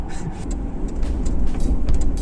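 A Ford Crown Victoria Police Interceptor P71 drives past, a deep rumbling engine and road roar that builds steadily louder over a couple of seconds, with occasional rattles from the car and no voices.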